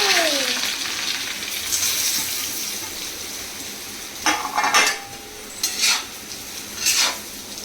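Bhakri flatbread frying in a pan, a steady close sizzle with a few sharp scraping and clinking bursts near the end.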